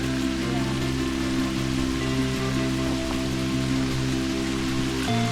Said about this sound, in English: we're hearing some light rain come through